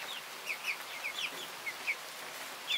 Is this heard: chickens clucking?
yes